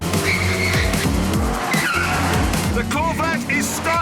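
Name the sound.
original Mini handbrake turn, tyres skidding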